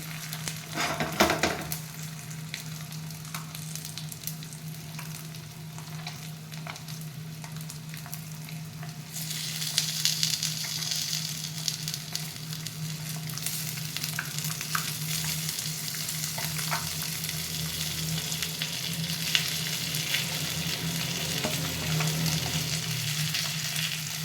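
Pieces of fish fry in hot oil with a steady, close crackling sizzle that continues throughout, with an occasional faint stir or scrape and no talk.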